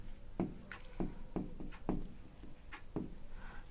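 Marker or chalk writing on a board during a Class 10 maths lesson, with several short, scratchy strokes in quick succession, close and fairly quiet.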